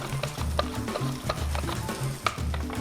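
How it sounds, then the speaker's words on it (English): Fennel is run back and forth over a mandoline for a pear and fennel salad, giving close, rhythmic scraping strokes about every half second over a low background hum. "Just run it back and forth on our mandolin."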